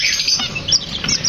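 Dense high-pitched chirps and squeaks from several small sun conure parrots, continuous and close, with no talking.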